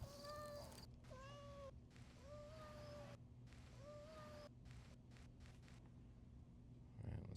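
Cat meow samples played back one after another on a Roland SP-404MKII sampler, several distinct rising and falling meows separated by short gaps, clear and upfront over a steady low hum.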